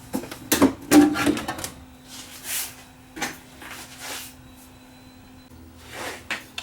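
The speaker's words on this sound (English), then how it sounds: "the drawer is opening and closing slowly" A Pioneer CLD-91 Laserdisc player's tray slides slowly open and shut, a series of close mechanical clicks and soft motor whirs with quiet pauses between, no talking.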